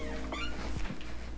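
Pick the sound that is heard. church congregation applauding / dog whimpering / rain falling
dog whimpering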